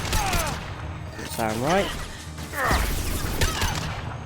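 Weapon fire in Mass Effect 2 (Legendary Edition) during the Collector Ship mission crackles as a steady stream of shots beneath someone talking over the action.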